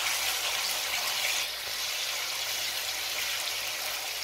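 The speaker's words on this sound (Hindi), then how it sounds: "तो अब इसको मैं अच्छी तरह से फ्राई कर रही हूँ।" Beef masala with added yogurt frying in a pan for yakhni pulao, a steady close hiss and sizzle that holds evenly throughout with no voice over it.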